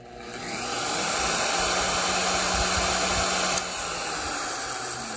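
A router runs steadily close by, a loud continuous whining hum with a slight dip in level near the end, no voices.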